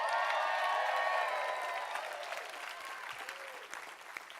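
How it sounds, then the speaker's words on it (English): A crowd at a Young Life banquet claps loudly and cheers with a few whoops, the applause strongest at first and then gradually thinning and fading out. "You got to be rowdy and clapping loud."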